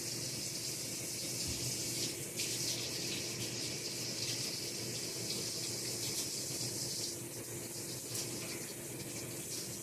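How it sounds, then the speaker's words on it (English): Water runs steadily from a kitchen tap as hands are rinsed after handling raw chicken, a continuous close splashing rush with no talking. "Let me rinse my hands real quick."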